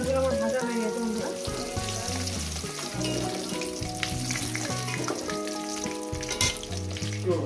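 Pieces of katla fish sizzle and crackle in hot oil, a loud, continuous bubbling fry heard close up with occasional stirring, and no talk over it.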